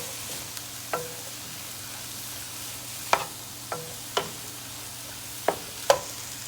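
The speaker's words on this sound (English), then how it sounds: "And stir it." Vegetables with lime sauté in a pan while being stirred, producing a soft, low sizzle broken by about eight sharp scrapes and clacks of the utensil at irregular intervals.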